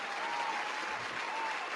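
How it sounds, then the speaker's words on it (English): A burst of applause from a crowd at a pre-game show, steady clapping filling the whole moment without pause. "Oh, she gets some applause."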